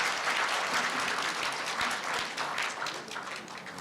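Audience applause at the 70th anniversary ceremony of the Korea University newspaper, a steady roomful of clapping that holds level throughout and rises again at the end.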